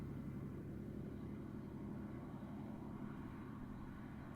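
A SpaceX Falcon 9 rocket ascending during launch, a distant, faint, steady low roar and rumble that holds unbroken throughout, with no talking.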